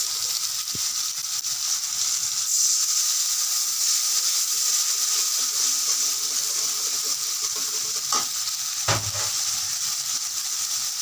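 Garlic and spices sizzle steadily in hot oil for a homemade pickle, a continuous close hiss with brief clatters from stirring near the end.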